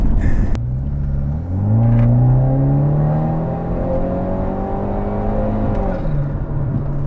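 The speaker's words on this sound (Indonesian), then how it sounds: "Aduh, blow off enak banget" A turbocharged BMW F30 with an MST intake drives along: a brief sharp burst from the blow-off valve, then a loud droning engine whose pitch climbs, holds and drops again. No voices.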